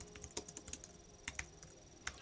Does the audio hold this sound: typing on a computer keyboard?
yes